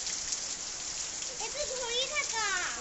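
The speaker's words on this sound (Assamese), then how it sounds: "আগফালে চাই আছোঁ বৰষুণ" Steady rain patters down through a monsoon-season day, a soft continuous hiss that fills the whole stretch, with faint voices and a few tonal sounds rising in the background.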